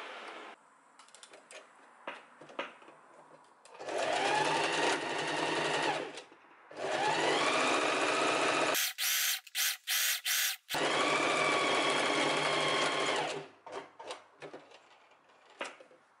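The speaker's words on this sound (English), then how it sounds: "And now we need to sew along here." A sewing machine stitches along pinned fabric for a mini skirt, running in three long, loud bursts with brief pauses between them and several short rapid stitching spurts in the middle, set against quiet room noise.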